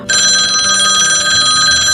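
A telephone bell rings loudly and continuously in a home, a bright steady electronic ring held for nearly two seconds with no talk over it.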